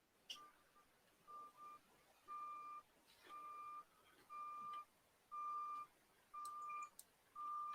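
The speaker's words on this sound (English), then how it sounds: "I hear a truck backing up." Reversing beeps from a delivery truck, a steady series of about seven evenly spaced electronic beeps, moderately distant in a quiet setting with no talk over them.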